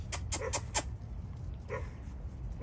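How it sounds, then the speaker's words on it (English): A six-week-old female puppy gives a quick burst of four high yips, then two fainter ones after a pause, over low background rumble. "Little female went to barking."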